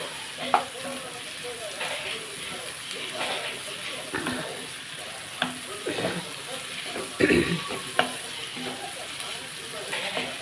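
Ivy gourd and tomato curry cooking in a pan, with a steady close sizzle broken by several scraping stirs and a few clinks of a spoon against the pan.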